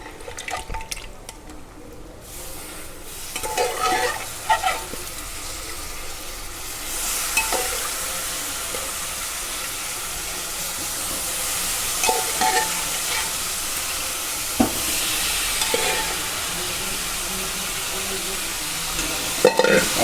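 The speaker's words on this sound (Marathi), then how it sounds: "जे आपलं वाफळलेलं जे चिकन आहे ते याच्यामध्ये टाकायचं आहे" Loud sizzling from a hot pan of tempering as pieces of steamed chicken are tipped in and stirred, with scraping, clatter and occasional running water nearby.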